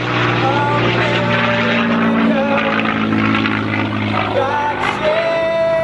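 A propeller aircraft drones loudly overhead while performing a four-point roll at an airshow, a sustained engine roar that shifts in pitch as it maneuvers, with a voice talking over it.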